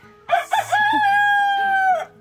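A rooster in a backyard chicken coop gives one loud, close cock-a-doodle-doo, a couple of short opening notes followed by a long, drawn-out call.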